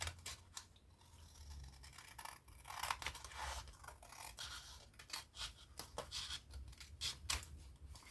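Scissors snip steadily through floral paper, a close, quiet series of sharp crisp cuts and faint rustles repeating irregularly throughout.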